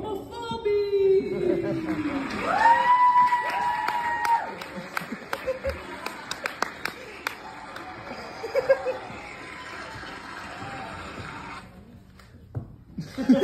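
A comedy audience claps and cheers to welcome a comedian onto the stage, the applause bursting and then thinning into scattered claps under a stage announcer's amplified voice.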